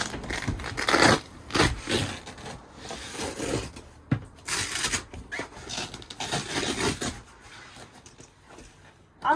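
Velcro straps on a camper door are pulled apart in a series of rough ripping bursts, close and moderately loud, with brief pauses between tears.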